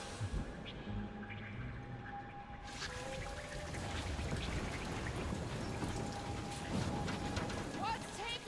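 Steady rain falling in the Guardians of the Galaxy video game, a dense hiss and patter with heavier spattering drops, muffled at first and then opening up brighter, with game tones and faint voices underneath.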